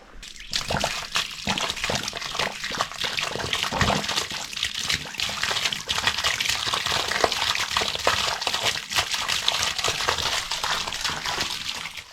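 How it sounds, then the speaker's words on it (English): Water rushes through newly installed plumbing in a house under construction, a steady, loud, close splashing flow with scattered clinks that lasts the whole time. "So it is official, the house is running water finally."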